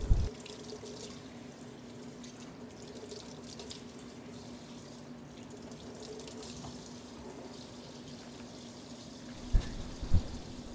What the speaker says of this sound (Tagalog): At matapos nating hugasan, lalagyan natin ito ng cold water at i-store na natin ito sa fridge